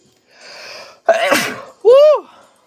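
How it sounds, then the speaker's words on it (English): A single close, loud sneeze: a breathy intake, then a sharp burst, followed by a short vocal exclamation. "This room always makes me sneeze."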